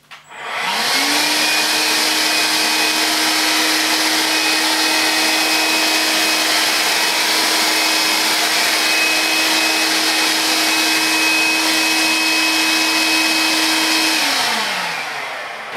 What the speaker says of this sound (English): the Vax picks up on hard surfaces